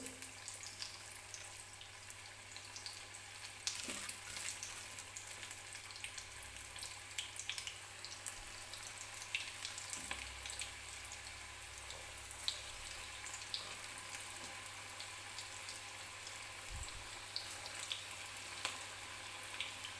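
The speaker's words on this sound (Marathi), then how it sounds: "तेलामध्ये मी आता भजी सोडून घेते" Bhaji fritters dropped into hot oil for a Maharashtrian puran poli thali meal fry at medium heat, giving a steady, fairly faint broadband sizzle and crackle that runs unbroken, with occasional small pops and no voices.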